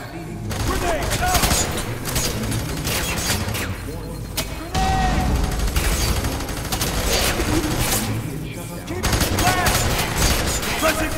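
Dense, continuous gunfire from the FEAR 3 video game, with rapid bursts and heavy booming shots layered under shouted soldier voices across the whole span, loud and close throughout.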